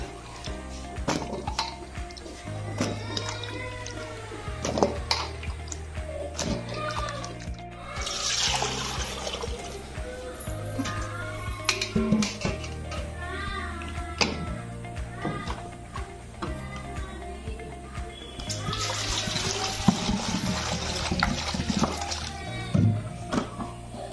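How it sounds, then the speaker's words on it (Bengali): Raw pumpkin is rinsed in water, sloshing and trickling as it is handled among pots, with splashy bursts and clinks over a steady background hum and melodic tones underneath. "এবার একটু ভালো করে ধুয়ে নেব, কারণ কাঁচা কুমড়ো হচ্ছে খুব আঠা থাকে"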